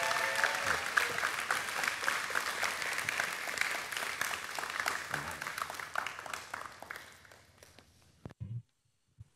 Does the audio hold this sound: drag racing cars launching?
no